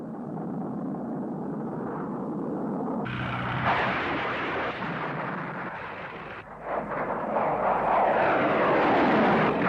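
A Harrier jet roars steadily with broadband engine noise, and a Sidewinder air-to-air missile strike adds a deep rumbling blast that surges near the end, loud throughout.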